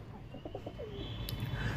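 A female pigeon gives a short run of soft, rhythmic coos, a few quick pulses close by and gentle, set against a low background hum.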